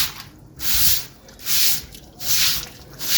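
Water splashes and sprays across a courtyard floor during washing, in four regular swelling bursts like a hose swept back and forth, close by and without talk.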